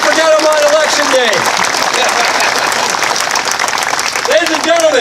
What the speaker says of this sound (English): the Honorable Mayor, give a big round of applause.